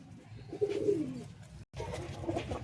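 A pigeon in a loft gives a low, rolling coo close by, followed by a brief break and then more muffled cooing and rustling, with no voices.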